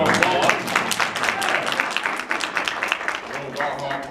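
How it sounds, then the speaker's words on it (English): An audience at a library performance claps in response, with brisk, dense applause and a voice talking over it. "Let's give them a round of applause."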